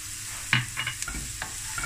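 Chopped garlic, four to five cloves, frying over low heat in a pan for spaghetti bolognese: a steady close sizzle broken by a few scraping stirs, with no voices.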